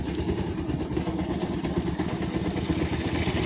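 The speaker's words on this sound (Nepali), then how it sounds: "चिप्लिनु थालिसक्यो बाइक" A motorcycle rides along a slippery, wet, muddy rain-soaked mountain road, its engine running in a steady mid-pitched drone with clatter and road noise throughout, loud and close with no gaps.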